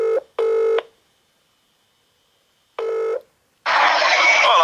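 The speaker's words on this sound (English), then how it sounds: "I'm calling up Adebola Bloke." Keypad tones from a phone dialing out for a call: two short beeps in quick succession, a pause, a third beep, then a burst of noisy line signal, all loud and close with no talk.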